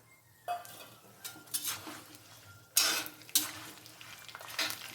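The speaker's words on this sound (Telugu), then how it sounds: "ఇవి మాడకుండా బాగా కలిపి వేపాలి" A spoon stirring and scraping green chillies frying in oil in a metal pan, with irregular clinks and scrapes over a soft sizzle and no talk.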